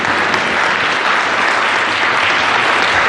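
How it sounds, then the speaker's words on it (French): A church congregation applauds steadily during a Catholic celebration at Sainte Thérèse de Keryado in Lorient, a dense, even wash of many hands clapping close by for the whole stretch, with no talk over it. "on applaudit maintenant"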